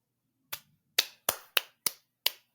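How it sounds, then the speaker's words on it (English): Six sharp hand claps ring out alone in a quiet room, one isolated clap followed by a quicker run of five, each loud and crisp with a short decay. "you can hear that, because I clapped really loud"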